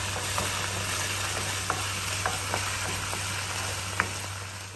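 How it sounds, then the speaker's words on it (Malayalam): Blended tomato paste sautés in a pan with a steady, even sizzle, broken by scattered light taps and scrapes of stirring and an underlying low hum; no talking. "ആ പേസ്റ്റ് ഇതിനകത്തോട്ട് ആഡ് ചെയ്ത് കൊടുക്കും. എന്നിട്ട് അത് ഒന്ന് നന്നായിട്ട് വഴറ്റിയെടുക്കും."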